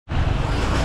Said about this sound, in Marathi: या साईडून गाड्या येतात आहेत.